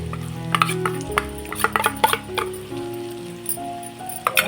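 Spiced green peas and paneer are stirred in a pan for a dhaba-style matar paneer, with scattered spoon scrapes and soft clinks over a steady low tonal hum, and no voices.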